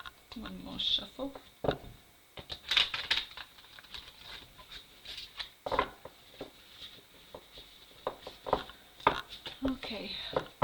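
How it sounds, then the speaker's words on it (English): Tarot cards being shuffled in irregular bursts of crisp riffling and tapping, with pauses between them, fairly close and quiet. "One more shuffle."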